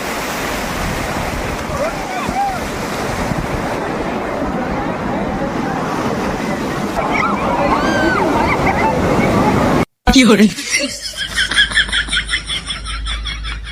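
Sea waves at high tide on Digha beach roll in as a steady, loud wash of surf, with wind buffeting the microphone and a harsh burst of handling noise near the end.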